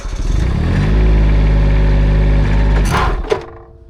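A MECHMAXX SG24 PTO stump grinder runs under a heavy, steady mechanical drone, then bogs down and stalls as its slip clutch slips, the engine note dropping away into a brief clunk and quiet.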